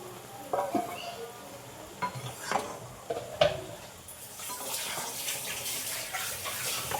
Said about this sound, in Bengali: নটু মিডিয়ামে আস্তে আস্তে এই সবজিটা আমি ভেজে দেব